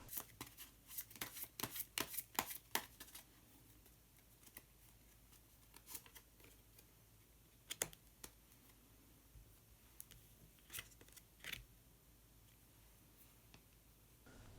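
Color tarot cards being shuffled and drawn, a quick flurry of papery riffles and flicks that is busiest at the start, then settles into scattered single card slides and taps, close and quiet with no talking.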